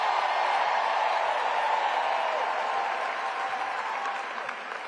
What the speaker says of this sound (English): got the biggest applause